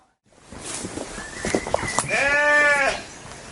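Several sheep bleat close by, a long wavering cry rising over rustling and footsteps, with faint voices in the background.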